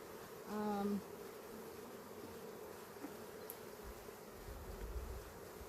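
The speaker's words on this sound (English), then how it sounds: "yeah, lots of bees in here. Lots and lots of bees." Honeybees hum as a steady, soft drone from an opened hive during a honey harvest, with a brief louder buzz early on as one passes close.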